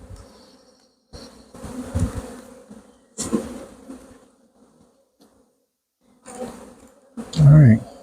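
Honeybees buzzing around an open hive during a nuc inspection, a steady insect hum that swells in bursts with a loud close pass near the end, under intermittent quiet talk from the beekeeper.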